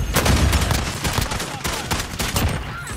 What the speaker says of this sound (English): Fire gun.